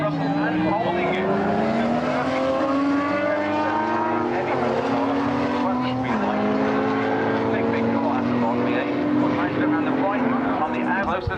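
Race cars at a 1995 AMOC meeting on the Snetterton circuit roar past close by, several engines overlapping in a loud, continuous snarl whose pitch climbs and shifts as they come through, with a commentator's voice partly buried underneath.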